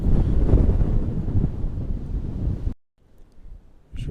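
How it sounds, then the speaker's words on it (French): Strong gusting wind buffets the microphone outdoors within view of the Pilat, a loud, dense rumble for nearly three seconds that cuts off abruptly, then returns faintly with a short gust at the end. "Il y a beaucoup de vent, désolé."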